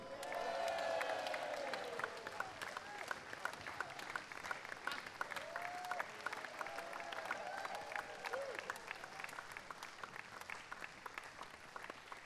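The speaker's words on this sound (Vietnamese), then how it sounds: "chúng ta hãy cùng vỗ tay để cảm ơn nghệ sĩ solo, bè trưởng trumpet" Concert audience applause for the principal trumpet soloist after a London Symphony Orchestra performance in Hanoi, a full hall clapping steadily with scattered cheers and murmurs mixed in, sustained at an even level throughout.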